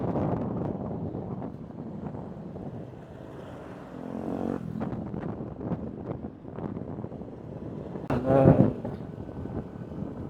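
Cold wind gusting across the summit of Mt. Timbak in Atok, Benguet, a steady broadband rush buffeting the microphone, with a louder burst near the end and no talking.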